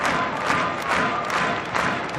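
Crowd cheering and shouting for their team at a women's indoor hockey World Cup semi-final between Germany and Austria in 2015, a loud, continuous roar of many voices with surging peaks and no break.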